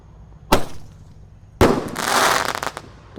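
An 8-shot 1.2-inch roman candle fires outdoors: a sharp single pop, then after a pause a louder burst trailing into a crackling hiss with several smaller pops, fairly close.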